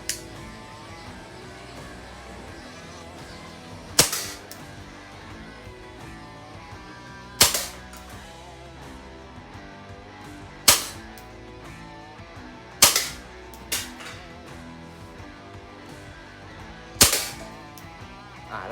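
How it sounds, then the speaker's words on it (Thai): Shots from a Hi-CAPA 4.3 Dual Stainless Custom gas blowback airsoft pistol fired at a beer can, about six sharp cracks each followed by a brief metallic ring, spaced a few seconds apart with no talking. "ทีนี้ผมจะยิงที่กระป๋องเบียร์นะครับ"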